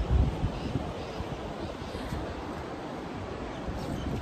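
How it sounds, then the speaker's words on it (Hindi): The Asi Ganga river rushes far below a house as a steady, broadband roar that blends with gusty wind noise, with no voices. "वो इसलिए क्योंकि मेरे घर से बहुत नीचे पास में नदी है"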